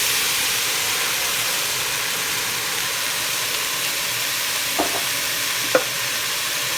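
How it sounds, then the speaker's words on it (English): Tomato mixture poured over rice in a hot pan for Mexican rice, giving a steady soft sizzle and hiss throughout, with a couple of brief louder clinks or spatters near the end. "I'm gonna add our tomato mixture to this."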